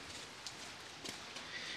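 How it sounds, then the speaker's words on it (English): Steady rain falls in Imphal in December, making a soft, even hiss of drops with a few faint patters on surfaces, heard alone and fairly close. "Yeah, it's raining in Imphal."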